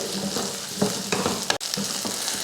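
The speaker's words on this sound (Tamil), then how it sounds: "வெங்காயம், வெள்ளை பூண்டு, தேங்காய் எல்லாம் நல்லா வதங்கிருச்சு." Onion, garlic and coconut sautéing in a pan, a steady close sizzle of frying with occasional scraping stirs and a brief clatter of the spoon against the pan.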